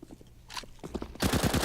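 AK-47 gunfire in a Counter-Strike match at ELEAGUE Boston 2018, a few faint scattered shots and then a rapid burst of automatic fire, fairly quiet overall.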